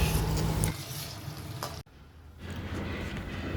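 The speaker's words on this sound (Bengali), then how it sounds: "সবগুলোই একটু হালকা লাল লাল হয়ে আসা অবধি আমি বেশ ভালো করে ভেজে নেব।" Onions and spices frying in a pan until lightly browned, before grinding into a paste for a chicken dish: a continuous close hiss and sizzle that drops briefly mid-way with a sharp cut, then resumes more quietly.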